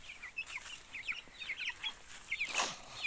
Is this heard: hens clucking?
yes